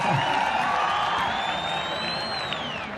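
Stadium crowd at the first opening cricket match at the International Cricket Stadium in Dehradun, a broad distant wash of cheering and applause with whoops, steady and fairly faint throughout.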